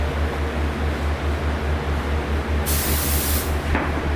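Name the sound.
spray gun machine spraying finish coat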